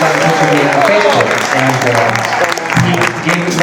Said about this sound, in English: I want you to give a round of applause to Mr. LaRue and Bob Esty